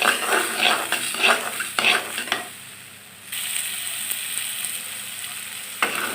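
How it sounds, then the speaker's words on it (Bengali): Soaked lentils are dry-fried in a pan with almost no oil, with a spatula scraping and stirring in quick, rhythmic strokes over a sizzle, then a steady, close frying hiss with one more scrape at the end. "এখন আমি ডালটাকে মচমচা করে ভেজে নেব।"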